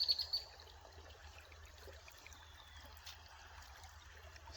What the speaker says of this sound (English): Just wanted you to listen to this soft creek flow